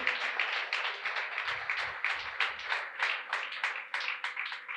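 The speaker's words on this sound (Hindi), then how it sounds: "जोरदार तालियां बजाइए उस भाई के लिए" A congregation claps for a brother at a church service, a steady rolling patter of many hands, fairly close and sustained throughout.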